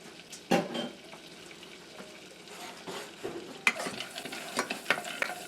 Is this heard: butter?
yes